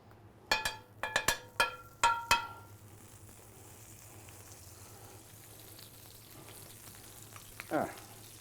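Clarified butter on a hot frying pan, heard after a few sharp, bright metallic clinks at the start, settling into a faint, steady sizzle.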